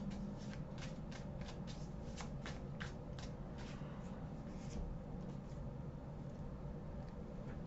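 Hidden Worlds oracle cards are shuffled by hand in a quiet room, a soft riffling patter of card edges that is busiest early on and then thins to light rustling, close and faint.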